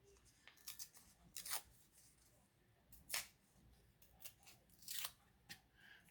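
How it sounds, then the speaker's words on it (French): Small pieces of paper torn by hand for a scrapbook envelope album cover, in a series of quick, crisp rips spaced unevenly, close and fairly quiet against a hushed room. "Je vais venir en déchirer des petits bouts."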